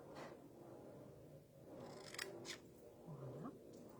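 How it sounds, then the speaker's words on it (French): Scissors snip through paper while cutting out a small shape, a few crisp, quiet cuts and rustles close by in a calm room. "Donc on va venir couper ça tout simplement avec nos ciseaux."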